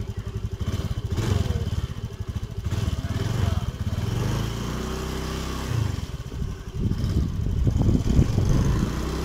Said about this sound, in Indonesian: dilihat sendiri motornya nggak mati